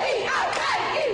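A crowd cheers and shouts in celebration with basketball player PJ, loud and close, with rising whoops over a dense wash of voices.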